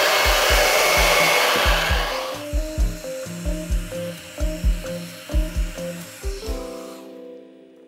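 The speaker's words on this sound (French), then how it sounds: "tu prends un sèche-cheveux brûlant" A hot hair dryer set to maximum temperature blows steadily onto sneakers, a loud close hiss and whoosh, while a quieter musical tune with a plucked rhythm runs underneath before the blower cuts out near the end.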